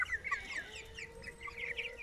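Faverolles chickens clucking softly nearby, a series of short murmuring clucks and chirps scattered across a couple of seconds against a quiet background.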